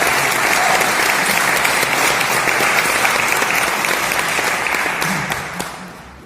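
An audience at a business conference applauds in a dense, loud burst of clapping that holds steady for about five seconds and then tapers off.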